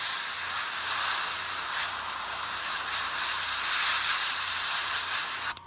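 An airbrush spraying hobby paint, a steady close hiss of air and atomized paint holding without a break until a brief knock at the end, no voices.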